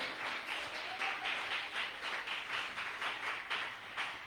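A church congregation applauding, sustained rhythmic clapping from many hands at moderate distance, steady throughout with faint voices underneath.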